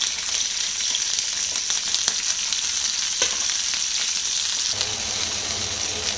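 Small shallots and green chillies fry in hot oil, giving a steady close sizzle and crackle with occasional stirring clinks, alone without talk.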